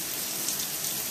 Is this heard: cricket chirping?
no